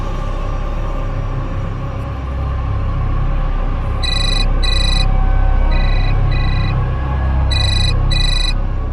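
A phone call rings out unanswered, the ringtone repeating in short paired bursts over a steady low rumble of background noise, with no one speaking.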